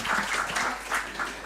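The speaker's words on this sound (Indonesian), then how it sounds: "Boleh beri tepuk tangan untuk beliau." Brief applause from an audience at a national dialogue event at an Indonesian institute, light scattered clapping heard fairly close for a moment.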